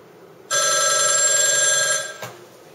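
A computer rings with an incoming SIP video call, a steady electronic ringtone of about one and a half seconds that cuts off abruptly, followed by a short click.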